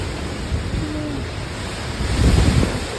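Floodwater from a typhoon and high tide inside a house, heard as a steady wash of moving water with rumbling wind noise that swells louder toward the end, with no talking.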